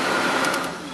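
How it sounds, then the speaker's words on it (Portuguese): The ventilation fan of a 1995 VW Parati CL car blows steadily, a loud, broad whooshing rush that holds even and then eases slightly toward the end, with no talk over it. "Ventilador."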